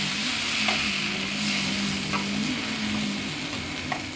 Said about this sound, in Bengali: দিয়ে একটু কষিয়ে নিচ্ছি কচি বা আলচির সঙ্গে